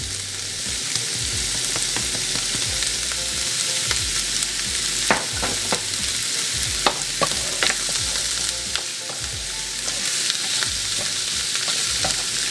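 Mushrooms with garlic powder frying in a pan, a loud, close, steady sizzle and crackle with repeated scrapes and taps of a spatula stirring them, no talking.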